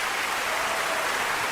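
Applause from a very large audience, a dense, even wash of thousands of hands clapping at once, steady and loud throughout with no voices.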